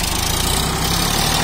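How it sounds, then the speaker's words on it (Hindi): A Sonalika DI 35 tractor engine running on a farm, a loud, steady close-up diesel chug with an even low rhythmic throb and no voices. "ये चाचा ला रहे हैं ट्रैक्टर, ये स्टार्ट हो गया हमारा सोनालिका D35।"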